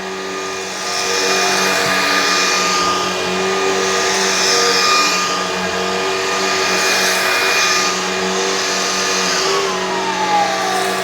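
Shark upright vacuum cleaner pushed over carpet runs as a loud, close, steady motor whine, swelling and easing in slow cycles as it moves back and forth.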